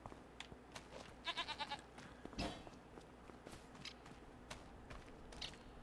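Goats bleat in the video game Farming Simulator, one wavering bleat standing out clearly amid footsteps and a steady farmyard background hum, with fainter calls scattered across the scene.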